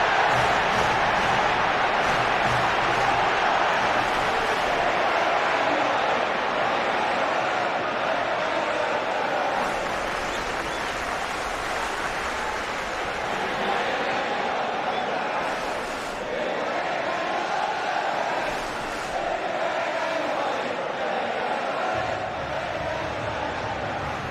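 A packed stadium crowd roars in a steady, dense wash of noise at a Manchester United versus Manchester City derby friendly in a FIFA football video game, swelling slightly at times.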